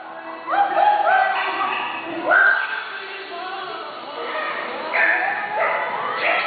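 During a yoga class, a person imitates a dog barking, with a quick series of voiced woofs and yips repeated in short bursts, close and clear.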